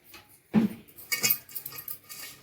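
Bajji batter being stirred in a bowl with ginger paste, salt and chili, giving a sharp utensil clink against the bowl followed by softer scraping and mixing sounds, close and fairly quiet with no talking.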